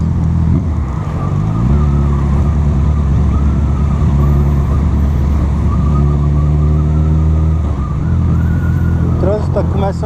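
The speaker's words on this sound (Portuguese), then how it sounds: "O trânsito tá começando a ficar meio complicado." Road traffic on a rainy early evening: engines rumble loudly up close, vehicles accelerate and shift gears, and a continuous wet hiss runs underneath.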